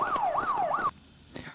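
A police siren wails loudly in a TV crime drama, sweeping up and down three times in quick cycles before stopping abruptly, followed by quiet background noise.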